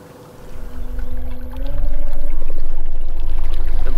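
A small outboard motor on a boat heading out across a lake toward an island, its steady droning hum rising in pitch over the first two seconds and then running continuously and fairly loud, with water rushing beneath.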